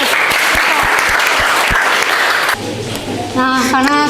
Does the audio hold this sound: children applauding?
yes